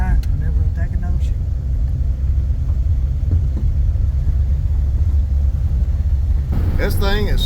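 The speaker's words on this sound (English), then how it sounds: "we're driving the 40 Ford down the driveway" A 1940 Ford Sedan Deluxe with a three-speed column shift rolls down a driveway, its engine giving a steady low rumble throughout, with someone talking over it and a brief louder burst near the end.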